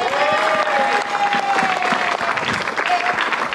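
Audience applause at a live elimination show, a dense steady wash of clapping from a crowd, loud and sustained throughout with voices faintly mixed in.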